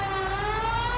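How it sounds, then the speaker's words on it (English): A police car siren in the video game L.A. Noire wails as a steady, loud, sustained tone with no talk over it. "Put the siren on."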